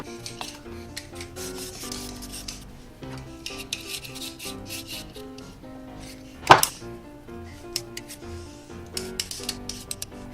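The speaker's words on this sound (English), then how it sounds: "I'm gonna peel off the skins first." A peeler scrapes skins off potatoes, a carrot and garlic in a kitchen, a series of close, rhythmic rasping strokes with occasional knocks and one sharper clatter midway, no voices.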